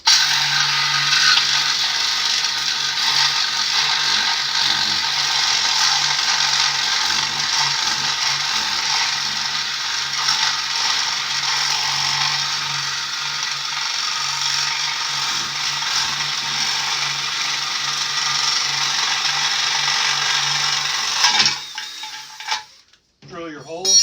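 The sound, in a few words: drilling hole in statue with 7/8 inch spade bit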